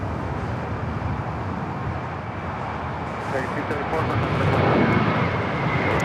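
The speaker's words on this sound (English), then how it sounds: "Air New Zealand in the all-white livery heading into the gates." Air New Zealand airliner in all-white livery, flight 6 from Auckland, taxiing to the gates at LAX, a continuous broadband engine roar that swells louder toward the end, with a voice talking over it.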